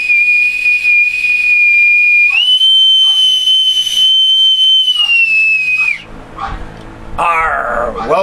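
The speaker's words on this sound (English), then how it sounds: "My authentic bosun's whistle." An authentic bosun's whistle, or pipe, blown in one long shrill piping note that rises partway through and holds before dropping off, followed by brief rustling and a short burst of chirping.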